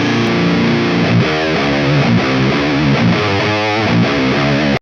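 A heavily distorted electric guitar through a thick-sounding cabinet impulse response plays chunky riffs with sustained chords, thick and loud throughout with no talking.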